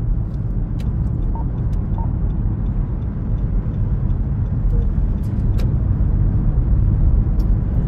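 A car merges onto Highway 20 from a boulevard, producing a steady, loud low engine and tyre rumble with faint higher squeaks and clicks scattered throughout.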